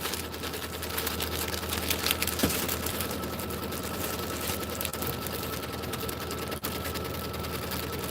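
An embroidery machine sews a steady placement stitch through batting and background fabric, giving a quiet, continuous rapid mechanical whir with no talking.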